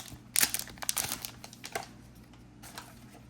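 A Magic: The Gathering Tarkir Dragonstorm collector booster pack wrapper being torn open, with sharp crinkling and ripping bursts up close at first that thin out into lighter rustles, heard without speech.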